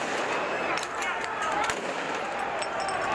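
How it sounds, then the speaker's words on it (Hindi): Police fire into the air at a street protest, a few sharp cracks scattered through a dense, loud roar of crowd noise, with a voice speaking over it. "पुलिस भी पीछे नहीं हटी और हवा में फायरिंग करती रही"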